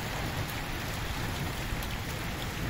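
Heavy, stormy rain pours down steadily over a village, a dense, even hiss of drops on surfaces that stays loud and unbroken throughout.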